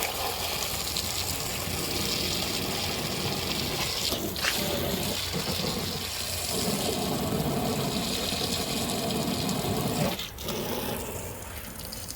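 Rainwater runs steadily off a waterproofed boat cover, a continuous gushing trickle like a small pump outlet, fairly quiet and unbroken, with a couple of brief knocks partway through.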